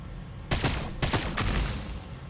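A Necron Annihilation Barge fires its gun in Warhammer 40,000: Battlesector, three sharp, close energy volleys about half a second apart, each with a short crackling tail, over a low steady battle backdrop without talking.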